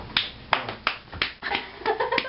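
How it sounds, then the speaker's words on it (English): A string of about eight sharp, uneven claps rings out at a birthday celebration, close and fairly loud, with a few faint tones sounding between the later hits. "Yeah, clap it up."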